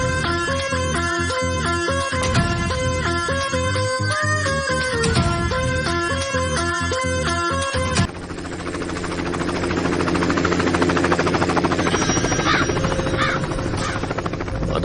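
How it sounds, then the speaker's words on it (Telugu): A helicopter flies over a village, its steady broadband rotor and engine roar taking over after a stretch of loud rhythmic music and holding at a constant, fairly close level. "మన ఊర్లో హెలికాప్టర్ ఏట్రా?"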